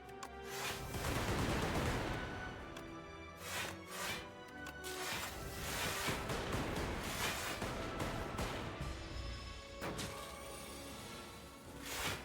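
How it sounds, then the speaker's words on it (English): Machine gun fire in the Brotato video game, a dense, continuous crackle of rapid shots and impacts lasting the whole stretch, faint and without speech. "Machine gun, go!"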